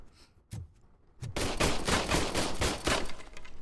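Gunfire at a shooting range in the video game RoboCop Rogue City: two single shots, then a loud rapid burst of automatic fire ringing out with sharp, closely spaced reports.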